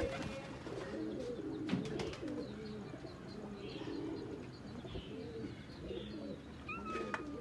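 Rampuri and Ferozepuri baby pigeons make soft, low, repeated cooing and murmuring, with occasional faint chirps and light rustling nearby, alone and without talking.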